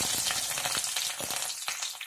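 Small onions sizzle in hot oil with mustard seeds and urad dal in a tempering for hotel-style idli sambar, a steady dense crackle with occasional sharper pops, close and continuous.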